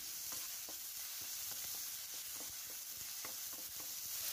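Onion, tomato, garlic and curry leaves sauté in oil with a quiet, continuous sizzle, while a spatula scrapes the pan in a steady, rhythmic series of soft strokes, heard faintly and alone.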